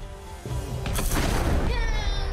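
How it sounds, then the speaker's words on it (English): An explosion goes off in the video game Sands of Salzaar: a loud, dense burst and rumble that swells and lingers amid the busy clamor of battle. "That explosion definitely helps as well."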